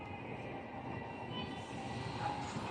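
A metro train runs at Itsaraphap MRT station in Bangkok, giving a faint, steady rumble and hiss from the rails with no voices over it.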